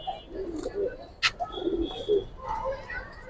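A female Gangchil pigeon coos in short, soft, repeated phrases close by, with a sharp chirp in the middle and faint background voices.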